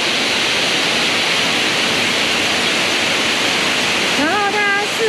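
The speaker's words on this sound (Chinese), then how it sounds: "猎户瀑布成功" Orion Waterfall in Hualien, Taiwan roars as a loud, steady broadband rush of falling water close by, with a brief voice cutting in near the end.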